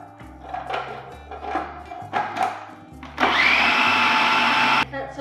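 A kitchen blender blending carrot and walnut gingerbread batter, short bursts of motor whir and thumping at first, then a loud sustained high whine for about two seconds before cutting off; a voice speaks over the early pulses.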